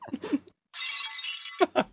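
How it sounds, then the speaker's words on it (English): A glass pipe shattering effect crashes in as a bright, crunchy burst of breaking glass lasting about a second, set between quick snippets of talk. "Where's the glass pipe?"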